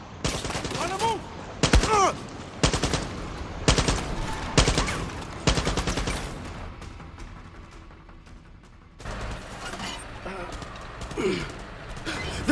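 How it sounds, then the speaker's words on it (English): Gunfire in the PS5 video game Far Cry 6: loud, close bursts of rapid shots and single cracks, broken by short pauses, with character voices and gasps mixed in between volleys. "They're shooting like they want to blow themselves up!"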